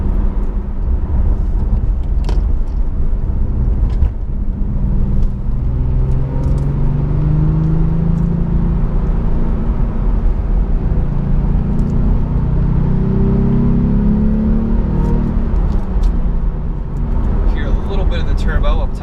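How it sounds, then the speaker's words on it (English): A 2017 Porsche Carrera S with its turbocharged engine in normal mode sends a steady, loud cabin drone with rising and falling engine tones and a slight turbo whistle, continuous throughout with talk over it. "the turbo up top on the just the normal mode. A little bit of the whistle."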